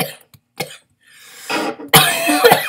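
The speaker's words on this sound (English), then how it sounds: "That was not a fake cough." Someone with a swollen throat coughs for real, a few sharp, hoarse bursts close to the mic with short silences between them, ending in a louder, raspy throat-clearing fit.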